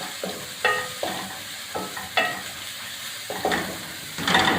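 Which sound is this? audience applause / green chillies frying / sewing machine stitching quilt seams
green chillies frying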